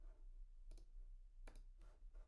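Quiet computer mouse clicks while saving a Contact Form 7 form in WordPress, about four sharp, dry taps spaced irregularly over a low, steady hum, with no talking.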